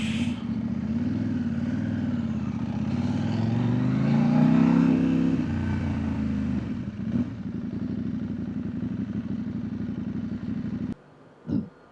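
A CFMOTO 800NK motorcycle rides along, its engine a steady close drone that rises in pitch as it accelerates midway, then settles; near the end the sound drops away abruptly, followed by a brief burst.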